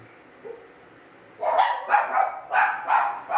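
Dogs bark in a quick series of about five loud, sharp barks at close range, following a brief quiet stretch.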